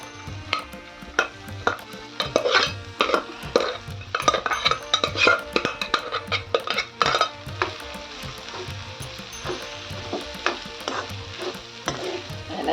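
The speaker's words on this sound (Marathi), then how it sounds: "कांदा टोमॅटो मिरची शेंगदाणे सर्व छान शिजले यात टाकूया आपले गहू" A spoon stirs green wheat into cooked onion, tomato, chilli and peanuts in a pan for a Maharashtrian khichdi, with steady scraping strokes over a continuous close sizzle and occasional pot clinks.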